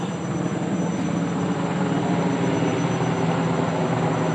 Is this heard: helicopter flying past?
yes